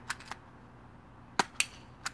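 A spring-powered airsoft pistol shooting at short range, five sharp, faint snapping shots spaced irregularly with quiet gaps between them.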